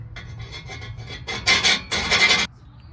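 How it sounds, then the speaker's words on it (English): A hand file rasps along the rough cut edges of a muffler pipe on a Chevrolet Silverado Trail Boss Z71 with a bolt-on Flowmaster muffler. Lighter strokes come first, then two loud, sustained bursts of scraping close by. "I think maybe just a file will be fine here."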